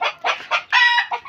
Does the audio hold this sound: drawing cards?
no